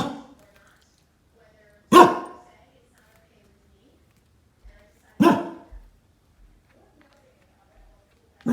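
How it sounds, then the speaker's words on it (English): A dog barks out the door in two loud, separate single barks a few seconds apart, with quiet room between them and the start of a third at the very end. "But like I said, Sandy barking out the door while Dash don't care over here."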